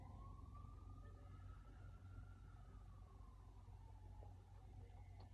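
A faint emergency siren wails far off, its pitch slowly rising and falling over a steady low rumble of background noise.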